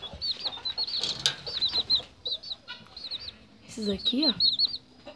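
Three young bantam chicks in a small box give repeated high, thin peeping chirps with brief bursts of wing flapping, heard close up beneath a man's speech.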